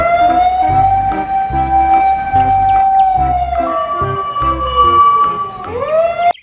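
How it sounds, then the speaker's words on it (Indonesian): A toy fire truck siren wails loudly and steadily over a pulsing electronic beat, its tone shifting pitch before dropping in a falling sweep at the end. "Wow, mobil pemadam kebakaran."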